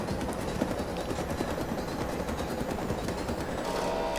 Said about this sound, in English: It's really cool when you send off an expedition and your helicopter takes off and flies away.